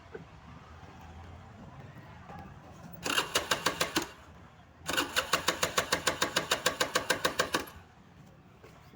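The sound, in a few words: motorcycle engine cranking but failing to start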